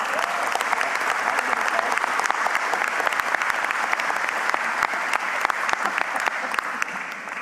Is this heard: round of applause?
yes